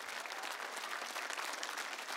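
Audience applause at a televised choir show, a dense, even wash of clapping from a large crowd, fairly soft and continuous with no talk over it.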